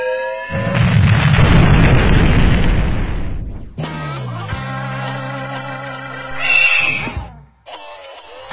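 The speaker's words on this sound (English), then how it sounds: "You have been cleared for liftoff in 5, 4, 3," A rocket lifts off with a loud, booming roar that swells and holds for about three seconds. It then breaks off into a string of shorter, varied bursts and squeals, with no voices.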